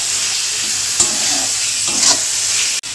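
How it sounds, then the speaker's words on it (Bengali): Spices and chopped green chillies frying in hot oil in a pan for a rui fish and potol curry: a close, steady sizzle with a few scraping stirs of a spatula and no talking. "এবার মশলাটা ভাজা ভাজা হয়ে এসছে"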